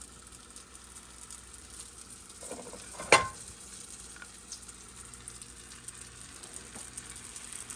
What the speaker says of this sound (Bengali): এই যে এগুলো এখন ভাজবো।